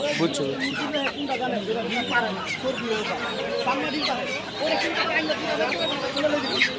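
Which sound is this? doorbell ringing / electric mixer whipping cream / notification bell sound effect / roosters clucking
roosters clucking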